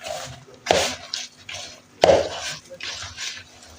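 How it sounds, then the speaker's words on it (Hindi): Gram flour (besan) being mixed into potatoes in a bowl by hand, two distinct soft scraping, squelching bursts with quieter stirring rustles between them, close and alone with no talk. "अब ये देखें इसको मिक्स कर लेती हूँ।"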